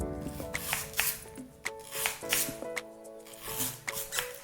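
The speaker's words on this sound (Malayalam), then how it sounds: "അതിനുവേണ്ടി നമ്മൾ പിണ്ടി എടുത്തിട്ട് ചെറുതായിട്ട് അരിയണം" A knife slices banana stem thinly on a board in a quick, regular series of about ten crisp, close cuts.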